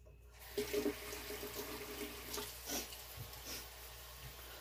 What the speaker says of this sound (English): Sorry, the water's running.